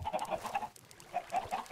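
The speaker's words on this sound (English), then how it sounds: "Up here, I have a few chickens." Chickens in a Minecraft farm cluck in short repeated bursts, a few birds close by with brief pauses between the clucks.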